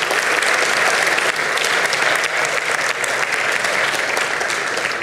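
A studio audience on the Armenian TV show Vitamin Club applauds to welcome a guest athlete; loud, sustained, even clapping from a full room, lasting several seconds without letup.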